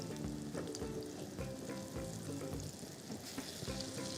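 Maghaz kabab frying in hot oil, heard as a continuous close sizzle with occasional light spoon stirs and bubbling.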